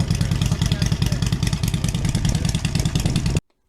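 Several motorcycles, two-stroke bikes at a gathering, idle and run nearby with a steady, throbbing rattle, then the sound cuts off abruptly near the end.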